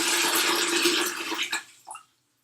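Water pours steadily into a container for about a second and a half, then trickles off into a few brief splashes before falling silent.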